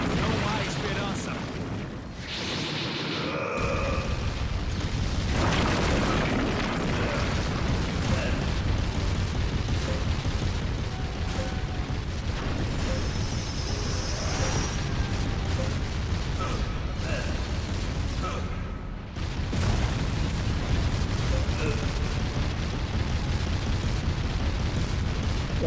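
Loud, continuous barrage of explosions, booms and impacts in a Naruto Shippuden: Ultimate Ninja Storm 4 battle, with fighting effects crashing throughout and game voices speaking over the action.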